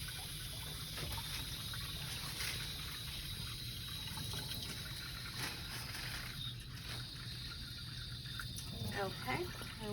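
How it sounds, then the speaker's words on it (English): Warm tap water runs steadily from a sink faucet while a basin is readied for peri care, a continuous broadband splash with a person speaking occasionally over it. "Open both sides because we need warm water."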